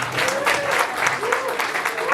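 Steady clapping from a crowd, continuous and fairly loud throughout, with a voice speaking briefly over it.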